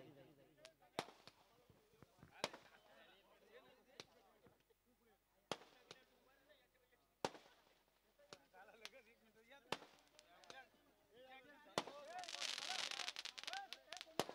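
Fireworks at an evening birthday celebration during a local cricket tournament, irregular sharp bangs and cracks spread across the stretch, fairly distant, with a denser crackling burst near the end and faint voices in the background.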